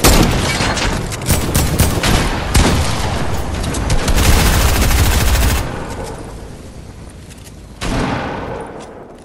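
Gunfire from a video game sniper session, dense loud bursts of shots for several seconds, thinning to sparse reports, then a final loud burst near the end.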